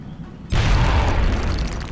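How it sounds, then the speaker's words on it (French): A grenade detonates in the tactical strategy game XCOM: Enemy Within, a sudden deep boom after a short quiet lead-in, followed by a sustained rumbling blast tail. "On va faire sauter leur couvert avec la grenade"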